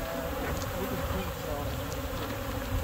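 Honey bees fill a package bee basket with a dense, close, continuous buzz that stays steady throughout, with no talking.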